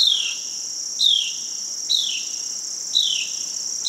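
A single bird chirps four times in a steady rhythm about a second apart, each a bright, short, falling note, close and clear over a constant high hiss.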